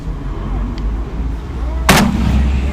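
A single sharp rifle shot from an IWI gas gun fired at a 500-yard target on an outdoor range, loud and close above a low rumble of wind and background noise.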